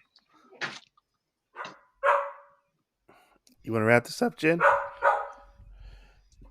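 Dogs barking in short bursts at a moderate distance, mixed with people talking over them indoors.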